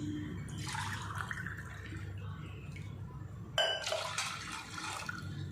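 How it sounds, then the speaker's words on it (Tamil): Water pours and splashes into a bowl for panipuri, a soft trickle followed by a brighter, louder stream near the end. "இந்த சைஸ் கப்பில் 2 கப் நான் ஊற்றிக்கிறேன்"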